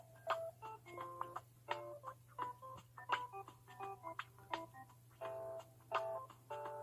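Repeated electronic phone ringback tone while a call is placed again, a steady pulsing beep pattern with a low hum underneath and no talking.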